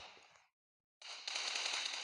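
Gunfire from an AMR sniper rifle in the PUBG video game: a burst of loud, dense shots, a half-second gap of silence, then sustained rapid firing that continues to the end, with no talk.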